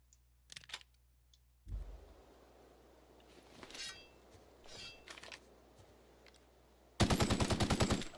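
Heavy gun firing in The Outer Worlds video game: a fast, loud burst of repeated shots near the end, with fainter scattered shots and impacts before it.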